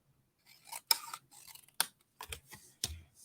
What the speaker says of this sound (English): you know I just often fussy cut out my sentiments